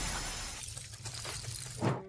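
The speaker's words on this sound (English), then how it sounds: "in a shocking moment, her magic shatters" Magic shattering in an anime scene, a dense glassy shattering burst with a sharp crack near the end, loud and close with no talking.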